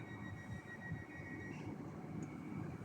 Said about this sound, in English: going out is the 8:42 Great Western Railway service to Penzance, which is just going out here